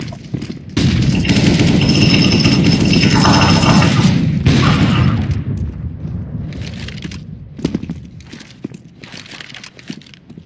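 A flashbang grenade goes off in a tactical shooter game, giving a loud, close burst followed by a sustained ringing roar of several seconds that slowly fades. Scattered gunfire and clatter follow.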